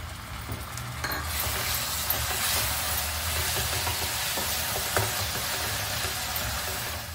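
Ground onion paste hits hot oil in a pan for chicken rezala, making a steady, dense sizzle and hiss with occasional stirring scrapes and clicks, close and continuous without speech.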